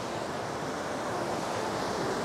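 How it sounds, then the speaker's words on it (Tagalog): Powerful surf roars continuously on a black-sand beach at Paniman Beach, Ternate, Cavite, a dense wash of crashing waves with wind buffeting the microphone, loud and close. "Lakas ng alon."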